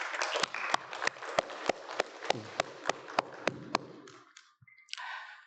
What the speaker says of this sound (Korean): 우리 한번 박수 쳐야 되지 않겠어요?